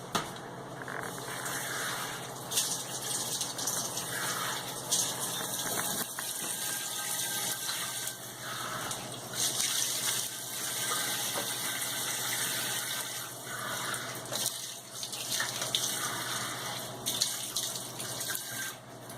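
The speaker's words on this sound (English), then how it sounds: "you're going to wash your hands quickly" Hands being washed under a running kitchen tap after handling meat, a steady broadband splash of water into a sink with shifting spatter as the hands move, close and continuous throughout with no talking.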